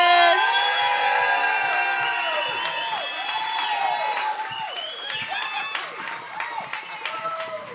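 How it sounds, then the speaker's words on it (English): Audience applause and cheering for a performer arriving on stage at a comedy show, a dense roar of clapping and whoops that holds steady throughout, with shouts and voices mixed into the crowd noise. "Please give a rousing applause for Janae Burris"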